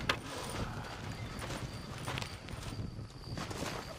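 Steady clip-clop of horse hooves in Red Dead Redemption over a continuous background wash, with a brief whinny-like accent near the start; moderately loud and close.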